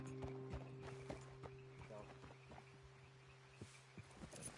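Horse hooves clip-clopping in the video game Red Dead Redemption 2, an irregular run of soft hoofbeats over a steady humming game ambience, with no talking.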